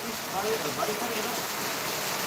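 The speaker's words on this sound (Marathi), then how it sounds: "आणि जोडावरच पाऊस पडू आला" Steady rain falling in a constant soft hiss, with faint pattering on surfaces.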